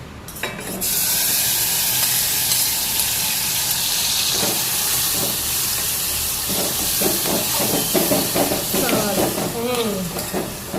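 Potatoes tipped into hot oil in a cooking pot set off a sudden loud hiss that settles into steady, close frying and steaming, with clinks and stirring knocks toward the end.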